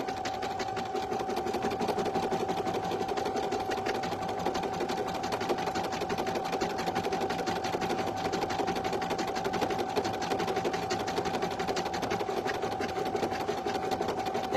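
A single-needle embroidery machine stitching on a premade item with glitter, a steady fast mechanical whir and rapid needle clatter with a constant hum, close and continuous throughout.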